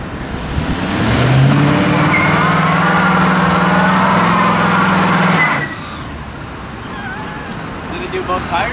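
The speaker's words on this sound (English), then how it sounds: "So first burnout." A turbocharged Ford Crown Victoria does a burnout, its engine revving hard with a loud, sustained roar and tire spin for several seconds before falling back to a lower idle. Voices can be heard nearby.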